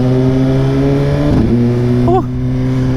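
A 2019 Suzuki GSX-R1000R motorcycle engine held in first gear, a loud steady close-up drone with a brief rev change midway and a short pitch blip near the end.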